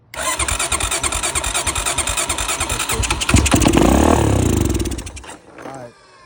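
An abandoned Honda Rancher 350 ATV engine cranks with a rapid ratcheting rhythm, catches and revs up loudly close by, then cuts off and falls quiet.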